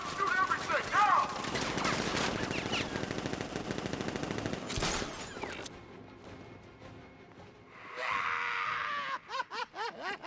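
Militia gunmen in Batman Arkham Knight open up with sustained automatic rifle fire, a dense rattling barrage for several seconds that cuts off abruptly, followed by quieter game sounds and a few sharp bursts at the end; voices shout and speak in between.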